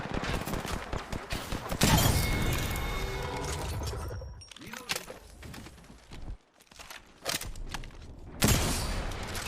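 Gunfire in a first-person shooter, loud rapid volleys at the start easing into scattered shots and bursts with quieter gaps, plus a sharp burst near the end.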